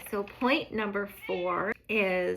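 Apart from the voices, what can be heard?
pet cat meowing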